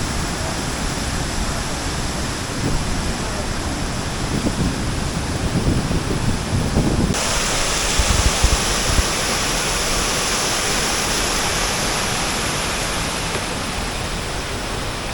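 Steady, roaring rush of a large waterfall in Indonesia filling the whole clip, loud and close, with a slight shift in tone partway through as if moving nearer.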